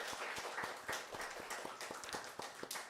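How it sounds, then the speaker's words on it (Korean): A church congregation claps for a choir after a Sunday worship hymn, scattered hand claps with distinct individual slaps, modest in volume and fairly close. "우리 감사의 박수하도록 하죠"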